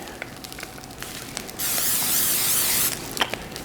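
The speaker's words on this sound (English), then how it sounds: "Spray the pan." A steady hiss of cooking spray sprayed into a pan lasts about a second and a half, close by, amid faint kitchen clatter.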